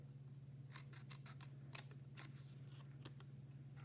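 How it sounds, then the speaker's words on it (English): Scissors snip along the score lines of a paper treat holder in a run of short, crisp cuts, close and clear over a steady low hum, with no talking. "So I have my scissors, and I'm just going to cut right along those lines to the center score line."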